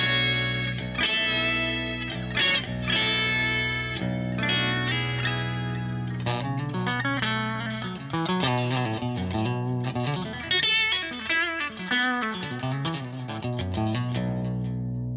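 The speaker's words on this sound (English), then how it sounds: "Now we've got single coil from the neck, the bridge, and middle single coil as well together." Vigier Excalibur Special 7-string electric guitar played clean on the neck, middle and bridge single coils together, a run of bright chords and quick melodic lines with chorus-like shimmer, loud and close with no talk.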